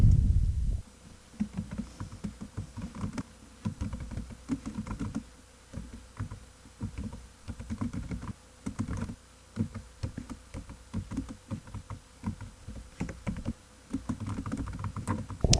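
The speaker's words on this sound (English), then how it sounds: "Once you are done typing" Someone types on a computer keyboard at steady, close range, with irregular bursts of key clicks and short pauses between them. No voices are heard.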